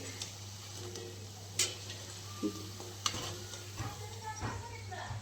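Onion and chili bhajis fry in hot oil, a steady, moderate sizzle under a constant low hum, broken by a few sharp utensil clicks and scrapes.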